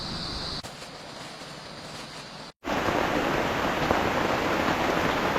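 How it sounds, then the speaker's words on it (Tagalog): Heavy rain pours steadily at a riverside camp, a dense, loud broadband hiss that briefly cuts out, then returns even stronger and keeps going with no voices over it. "Lakas ng ulan mga boss."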